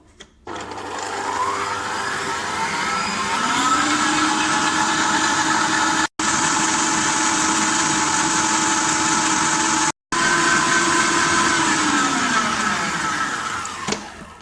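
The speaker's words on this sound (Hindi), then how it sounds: "हाई स्पीड पे मैं बीट करना स्टार्ट कर रही हूँ।" An electric hand beater whirs steadily at high speed through butter being creamed for cumin biscuits, a loud continuous motor drone that rises in pitch after a few seconds and cuts out briefly twice before running on.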